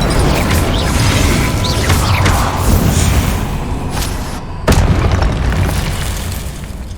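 Incendio fire spell cast in the video game Hogwarts Legacy, a loud sustained roaring burst of fire with a booming low rumble and a sharp second blast near the end, with no talk.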